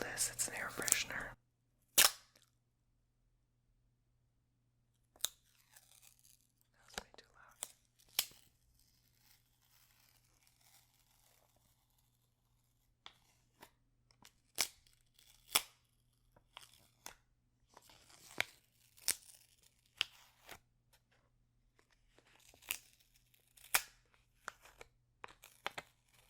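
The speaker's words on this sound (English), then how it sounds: "you peel this, it's an air freshener" Plastic packaging of an air freshener peeled open by hand in close, crisp bursts: sharp tearing and crinkling snaps separated by quiet pauses, with soft whispered speech in between.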